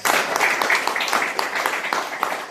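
An audience at an AWPL business meeting applauds: dense, steady clapping that fills the room throughout, with a voice faintly mixed in.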